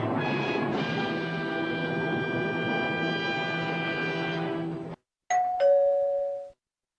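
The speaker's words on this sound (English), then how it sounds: "My doorbell rang." A sustained electronic chime tone rings for several seconds, then after a short pause a clear two-note doorbell ding-dong sounds nearby.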